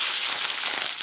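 Cumin seeds crackling in hot ghee for a Gurdwara-style langar dal, a dense, bright crackle and spatter close up with no talking.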